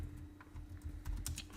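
Keys clacking on a computer keyboard while a setting name is typed into a search box in PyCharm, a quick irregular burst of close, crisp taps lasting under two seconds.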